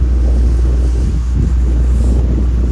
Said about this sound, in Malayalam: ഇപ്പോൾ തിരിച്ച് ബോട്ട് ജെട്ടിയിലേക്ക് വന്നുകൊണ്ടിരിക്കുകയാണ്